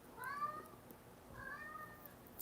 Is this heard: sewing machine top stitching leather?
no